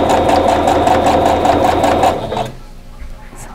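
A sewing machine stitching cotton fabric pieces for a stash-buster quilt block, with a loud, fast, even needle chatter for about two seconds that then stops, leaving quiet handling noises.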